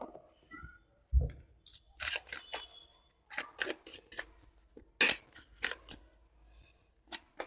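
Tarot cards are drawn from a deck for a Libra reading, giving soft, close papery flicks and slides in short bursts, with a small tap near the start and a quiet room behind.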